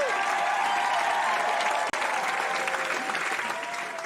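Continuous crowd applause fills an award event honoring a 40 under 40 recipient, a dense, even wash of clapping that holds steady, broken by one brief dropout, then slowly thins toward the end.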